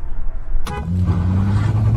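A loud car horn blares close by, starting sharply and then holding as a steady tone over the low hum of the engine.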